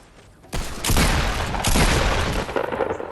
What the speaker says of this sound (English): You went for the deagle shot.